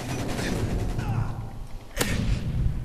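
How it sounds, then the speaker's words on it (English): Enemy gunfire in Call of Duty: Modern Warfare 3 sounds as a dense, continuous rattle of shots with one sharp, loud crack about two-thirds of the way through. "They're shooting at me."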